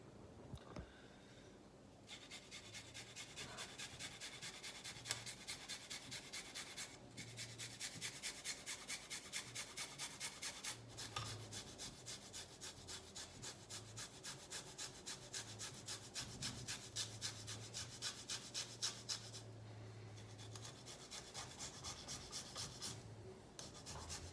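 Fresh ginger root rubbed against a grater, a quiet, steady rhythmic rasping scrape repeating quickly and evenly for a long stretch, close up with no talking.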